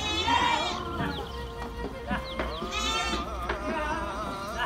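Goats of mixed colours and sizes bleat repeatedly inside a warm hillside farm shed, several loud overlapping calls over a constant low background hum.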